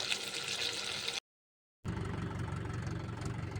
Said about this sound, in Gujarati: આપણે પાછું ટ્રેક્ટર ચાલુ કરી દીધું